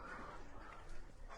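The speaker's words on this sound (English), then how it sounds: "Barking at the goat." A dog on a farm barks and whines at a goat, giving short muffled yips within a noisy, rumbling outdoor background.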